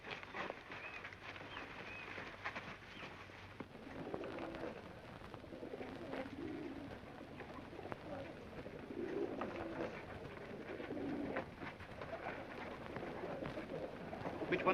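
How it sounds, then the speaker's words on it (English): Pigeons coo softly and repeatedly in an old 1938 film soundtrack, their low murmuring calls continuing over a steady hiss of background noise. "Yes, there are pigeons here."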